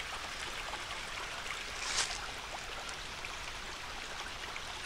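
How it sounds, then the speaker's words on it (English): Orange-stained water drains from an old closed mine and pours out in a steady, broadband rush, continuous and fairly close, with a brief splashy surge partway through and no voices. "Here's some of that orange water that you've seen in some of my other videos. A whole bunch of it just pouring out here."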